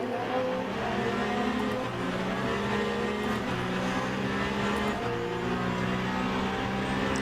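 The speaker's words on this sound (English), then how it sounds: "Okay, these are all hypercars now." Hypercar engines roar at Le Mans in the racing game Le Mans Ultimate, a loud continuous engine drone with shifting pitch as several cars run together at speed.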